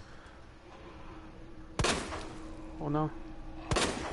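Two sharp, loud gunshots ring out roughly two seconds apart in the video game Resident Evil 2, each a sudden blast with a short decay, while someone speaks briefly between them.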